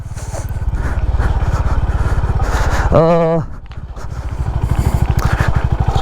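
A Honda Highness CB350 motorcycle engine thumps steadily at a low idle-like pulse on an off-road ride, close and loud, with a brief tonal horn-like interruption midway before the rhythmic chugging resumes.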